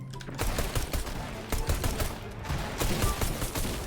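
Heavy video game gunfire with overlapping shots and bursts rattles continuously and loudly, with a brief quieter moment at the start.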